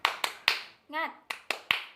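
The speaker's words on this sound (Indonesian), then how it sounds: "gimana kalau kita tepuk semangat bersama-sama" A class of first-grade pupils claps the 'tepuk semangat' rhythm, three sharp claps, a short chanted voice, then three more claps, close and crisp.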